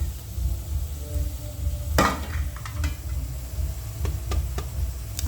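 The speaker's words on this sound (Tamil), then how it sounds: "இப்போ இந்த எல்லா உருளைக்கிழங்கும் பொரிச்சு வரட்டும், பொரியட்டும்." Potatoes fry in hot oil with a steady, broad sizzle throughout, punctuated by a few sharp clinks and knocks of a utensil against the pan; no talking.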